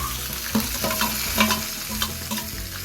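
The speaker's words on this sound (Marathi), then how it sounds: "त्यामध्ये कांदा आणि टोमॅटो टाकून घ्यायचा" Onion and tomato sauté in a pan for chicken handi with a steady loud sizzle, while stirring adds a few scraping accents and no one speaks.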